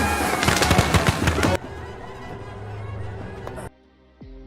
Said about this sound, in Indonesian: Dia tembakan pistol ke udara beberapa kali